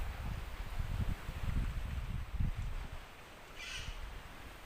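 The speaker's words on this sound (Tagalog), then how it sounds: "At pandami ditong mga ibon guys." A single faint bird call rings out from treetops near a stream toward the end, over a low rumble of wind and rustling.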